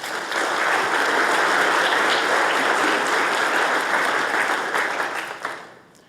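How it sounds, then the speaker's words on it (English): A conference audience at the 2022 Mackinac Policy Conference breaks into sustained, dense applause that holds steady for several seconds before tapering off at the end. "please give them a round of applause."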